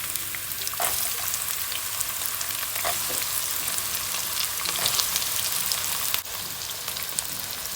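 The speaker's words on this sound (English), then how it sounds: "I have roughly or finely chopped them, and they will go in the hot oil." Chopped onions frying in hot oil give a steady, dense sizzle with occasional stirring clatters, close and continuous without speech.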